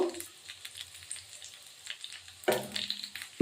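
Potatoes frying in a pan with salt and turmeric, a soft continuous sizzle broken by louder clattering stirs near the start and middle, close and without talk.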